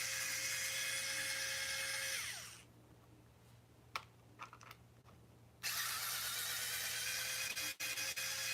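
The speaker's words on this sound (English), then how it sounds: "Just getting all these screws out." A power driver whines loudly as it backs screws out of a Granite Grom RC car chassis, then stops for a few seconds of quiet clicks and handling before the motor whines again.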